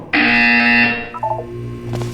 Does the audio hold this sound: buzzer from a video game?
yes